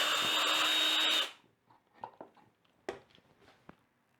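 A power drill whines steadily for about a second while driving a screw into wood during woodworking fixing, then cuts off, followed by scattered light knocks and handling sounds.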